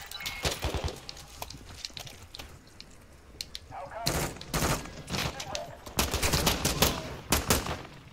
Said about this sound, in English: Are these our own guys we're shooting here?